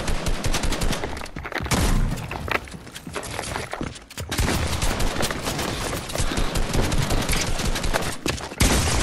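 Loud, relentless gunfire in Fortnite: overlapping bursts of rapid automatic and single shots from many weapons at once, nearly unbroken, with brief dips in intensity.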